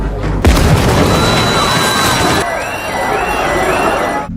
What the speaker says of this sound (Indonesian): Ledakan itu pun menimbulkan kekacauan